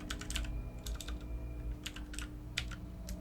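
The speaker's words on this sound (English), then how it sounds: "Too early for typing." Keyboard typing inside the video game Analogue: A Hate Story comes as quiet bursts of clicky keystrokes in short clusters over a low steady hum.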